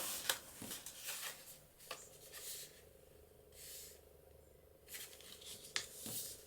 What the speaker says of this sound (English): now we can fold that down and burnish it